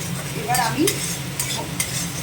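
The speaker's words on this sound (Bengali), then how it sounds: "পেঁয়াজ বাটাগুলো আমি দিয়ে দিলাম, দিয়ে এবার আমি এটা নেড়ে নেব" Onion paste frying in a pan is stirred, giving a close, steady sizzle with scraping strokes of a spoon against the pan and a few sharper clinks, heard alone.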